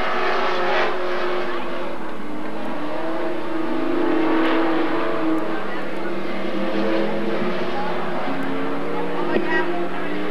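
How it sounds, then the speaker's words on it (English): Dirt track race cars roar around Magic City Speedway in Billings, Montana, a continuous loud engine drone with passing surges and revving, under a commentator's steady talk. "Once again, Cardwell's car developing that push that we talked about a little earlier."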